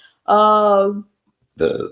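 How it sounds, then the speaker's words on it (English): A single long, loud burp close to the camera, followed shortly by a brief second belch-like sound. "I burped on the camera"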